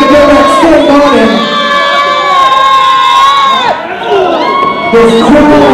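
Crowd at a local lucha libre indie wrestling match cheering and shouting loudly, high excited voices rising and holding together, briefly dipping before surging again.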